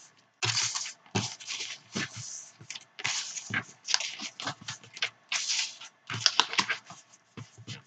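Paper is folded for a small album of passport-size photos, with close crisp creasing and rustling in short irregular bursts and quiet pauses between them.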